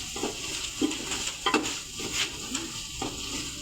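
Masala being fried with finely chopped tomatoes and yogurt in a pot for beef yakhni pulao: a steady sizzle with repeated spoon scrapes and stirring knocks at a regular rhythm, close by, with no one talking.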